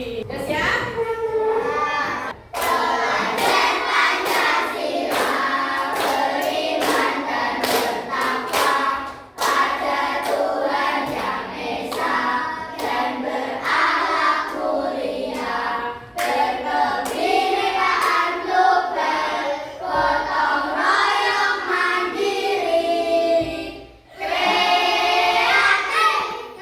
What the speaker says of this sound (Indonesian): kita lakukan tepuk profil pelajar Pancasila ya